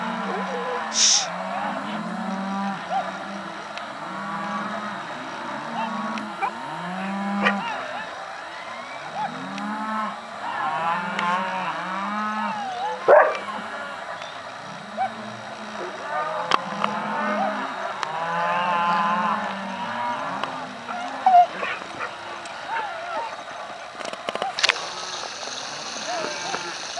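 Cows in a herd moo again and again during a cattle round-up on a road near a creek. The low calls overlap, some near and some farther off, with occasional higher bleats and light background noise.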